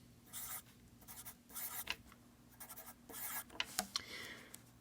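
A pen scratches on paper while drawing a bass clef, giving soft, close, intermittent strokes and short scrapes with brief gaps between them.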